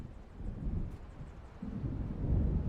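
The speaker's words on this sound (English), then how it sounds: "It seems there's a storm coming." Low rolling thunder from an approaching storm in Alan Wake Remastered, a continuous rumble that swells toward the end, fairly distant and moderately quiet with no voices.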